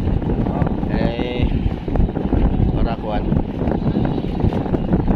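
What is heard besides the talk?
strong wind on a boat at sea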